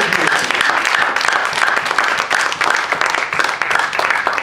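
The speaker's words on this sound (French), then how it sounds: "Yes, applaudissez plutôt" A crowd applauds steadily, dense clapping from many hands filling the room at an even, loud level throughout.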